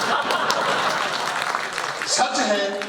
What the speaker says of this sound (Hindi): समापन पर तालियां बजा देना